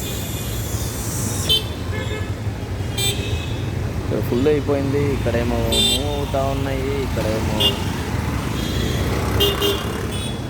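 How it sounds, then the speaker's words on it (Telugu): Car horns honk in short repeated toots through a jammed road in heavy traffic, over a steady roar of engines, while people talk close by. "హారన్ కొడుతూనే ఉన్నారు"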